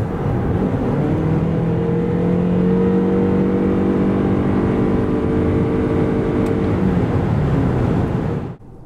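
Toyota RAV4 2.5 plug-in hybrid, 306 hp with all-wheel drive, accelerating from 90 to 140 km/h; a sustained engine hum rises steadily in pitch over road noise inside the car, then fades abruptly at the end.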